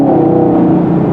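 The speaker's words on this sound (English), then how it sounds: "Nothing beats the sound of a strong Chevrolet small block V8." A 2020 Chevrolet Camaro 2SS with a small-block V8 holds a loud, steady, deep engine drone, close up and unbroken for a brief moment, with no voices.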